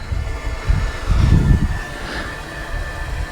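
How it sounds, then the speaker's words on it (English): A Propex HS2000 propane heater burns after ignition, its fan giving a low, steady rumbling whoosh with a faint whine, close by and moderate, swelling slightly as it spins up, with no talking. "You can kind of hear the fan turn up a little bit."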